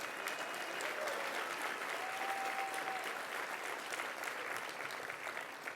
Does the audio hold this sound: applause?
yes